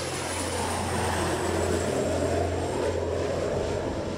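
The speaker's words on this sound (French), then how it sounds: "un avion militaire américain survole le bateau" A military aircraft passes over a boat as a dramatized sound effect, a steady loud droning engine roar with a low hum that holds without pause and no talking.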